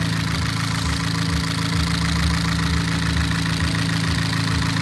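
A freshly rebuilt Astra VXR engine idles as it warms up after its first start, a steady low rumble with an even, slightly knocking pulse, loud and close.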